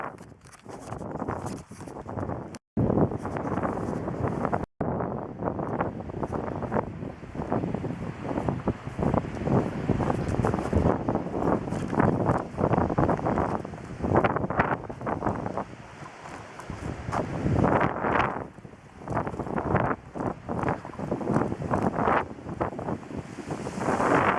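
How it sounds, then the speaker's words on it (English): Ocean surf pounding the rocky Big Sur coastline at high tide, a continuous close roar of breaking waves with heavy wind buffeting the microphone throughout. "This is Big Sur coastline. It is high tide"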